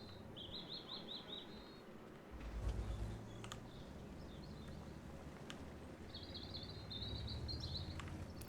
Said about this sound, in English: You can hear birds via the stream.